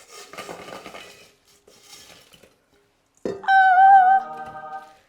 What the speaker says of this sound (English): put it in a little enamel bowl so you can hear them tip into it